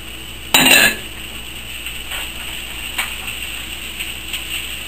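Vegetables tipped into a wok where an onion is already cooking, a loud close clatter and hiss at the start, then quieter sizzling with a few small clinks.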